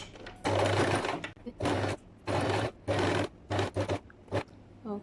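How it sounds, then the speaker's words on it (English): A sewing machine stitches a trouser side pocket seam with a 1.5 cm allowance in several rapid bursts of loud, close whirring broken by short pauses, including a brief reverse stitch. "I'm gonna start sewing,"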